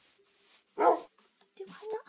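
A wolf in the video game Minecraft gives a single short bark, followed by faint whining sounds, with quiet background noise.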